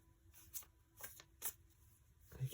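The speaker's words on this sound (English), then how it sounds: "I'm going to draw some tarot cards for you" Soft tarot cards being shuffled and drawn in a quiet ASMR setting, a few short papery riffles and flicks spaced out, close and faint with no talking.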